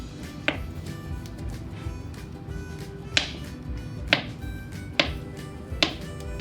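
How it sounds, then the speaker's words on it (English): A small ripe banana is cut into pieces with a knife, producing a handful of sharp, irregularly spaced taps against a cutting board over a low, steady background hum. "First you take one small ripe banana, cut it into pieces and put it in the blender."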